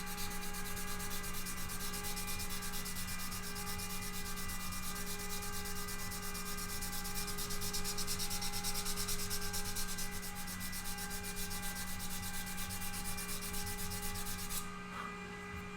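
Hand sanding on a wooden guitar body: a continuous, fairly quiet scratchy rubbing runs steadily alone over a low electrical hum, then eases off near the end.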